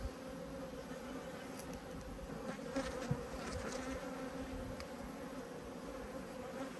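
Honeybees hum around hives during a full apiary inspection, a soft, even buzzing that persists throughout, with faint handling noises and no speech.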